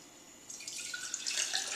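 Lemon juice is poured into a jar, a thin trickling, splashing stream that starts after a brief pause and grows fuller and brighter, close up and quiet.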